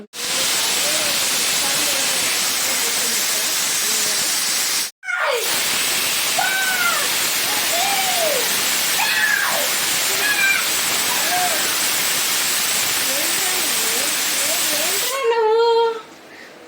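Steady loud hiss of steam from a pressure cooker cooking mutton curry on a stove fills the clip, broken by a brief pause, with faint voices and clatter underneath.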